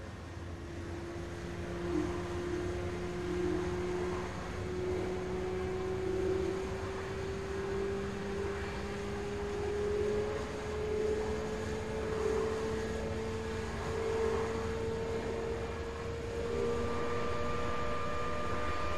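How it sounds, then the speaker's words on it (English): An F-104 jet engine in War Thunder spools up steadily, a continuous rising whine with a low rumble beneath, holding a loud, even level throughout. "The F-104, for example, has seen an upgrade to its jet engine spooling up similarly to how they would in real life."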